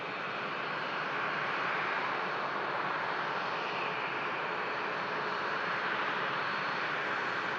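Aircraft engines at Manchester Airport roar steadily at a distance, a broad continuous rumble with no breaks and no voices.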